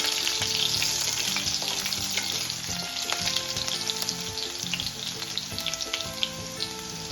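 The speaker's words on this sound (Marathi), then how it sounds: "ठेचून घेतलाय थोडासा लसूण। थोडंसं आपल्याला भाजू द्यायचं तेलामध्ये।" Four or five crushed garlic cloves fry in hot oil with a dense, steady sizzle and crackle, close and even throughout with faint tonal background music beneath and no voices.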